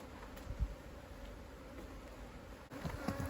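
Honeybees buzz steadily at an open hive kept in an old monastery on Achill, a faint, continuous drone with a few brief knocks and handling noises close by.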